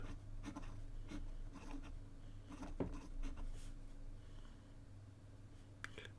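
Jinhao 9016 fountain pen with an ultraflex nib writing in Diamine Oxblood ink on Rhodia paper, giving soft scratchy strokes in short bursts over a steady low hum, close and quiet.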